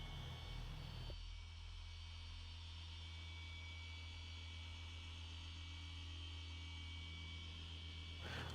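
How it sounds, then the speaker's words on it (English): A battery-powered polisher runs on car paint with a constant, even whirring hum that cuts off near the end, close and steady with no talk. "just guiding the polisher back and forth"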